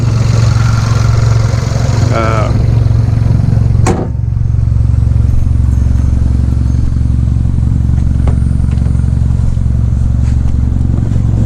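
A 2016 Hyundai Veloster with a 1.6-liter turbo four-cylinder idles steadily with a low, even drone, interrupted by a brief clunk around the middle, heard from inside the car.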